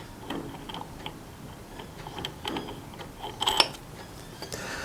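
A nut is threaded and tightened onto a spindle holding abrasive discs with an O-ring friction drive, giving small metallic ticks and clicks close by, with a cluster of sharper clicks near the end.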